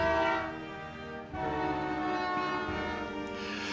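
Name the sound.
Canadian Pacific Holiday Train passing, horn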